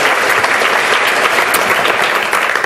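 A lightning-talk audience breaks into loud, dense applause, continuous steady clapping from many hands, close and with no voices over it.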